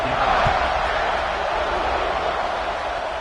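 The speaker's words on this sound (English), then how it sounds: "this crowd is buzzing after that last score" Football stadium crowd at a Texas vs Georgia game, a loud, steady, dense roar of many voices that continues throughout.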